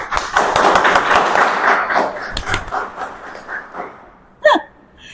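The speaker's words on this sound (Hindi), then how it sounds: "अरे वाह, ताली बजाइए।" Congregation at a church service clapping together, a loud, dense burst of hands that gradually thins and fades over a few seconds, followed by one brief sharp sound near the end.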